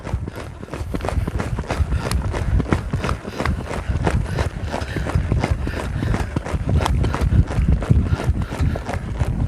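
Hooves beat in a quick, even trotting rhythm, close and fairly loud, with dull thuds repeating steadily throughout.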